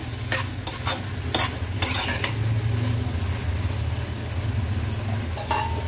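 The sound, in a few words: sautéing squid (makli) with salt in a pan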